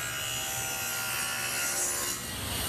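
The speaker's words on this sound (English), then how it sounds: "Then clamp the workpiece vertically in the jig. Make the first cut." A table saw cuts a wooden tenon cheek with the workpiece clamped upright in a jig, giving a loud, steady, close whine and rasp of blade through wood with no voices.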